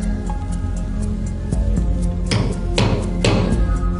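Hammer blows on a nail during a Fort Boyard challenge: a few isolated taps, then three or four heavier ringing strikes near the end, close and clear over a steady background hum.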